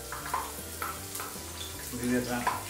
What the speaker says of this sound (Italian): Vedete quando comincia a frigolare?